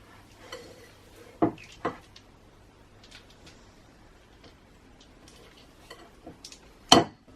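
Sparse scraping and tapping of a spatula against a mixing bowl while folding gluten-free milk chocolate chip cookie dough, a few sharp knocks spread over quiet pauses.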